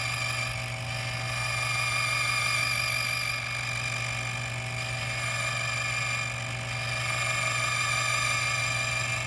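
An automatic saw machine cutting on its own after an auto-start cycle: a steady mechanical hum with a constant low drone and whining tones, swelling slightly midway, with no talk.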